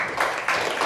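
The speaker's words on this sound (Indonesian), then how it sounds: "Tepuk tangan untuk Safira" A classroom of students claps for a classmate who placed among the top three, a short burst of dense, steady applause close by.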